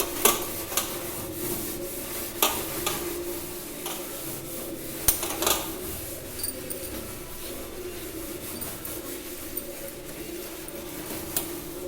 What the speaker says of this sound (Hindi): जूने से साफ़ करूँगी इसको, मैं ज़रूर करती हूँ। मैं इसको ऐसे ना रगड़ दूँ ना